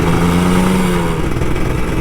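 A Kawasaki Ninja RR 150 two-stroke motorcycle engine drones loud and close, holding a steady rev with a slight pitch drift throughout.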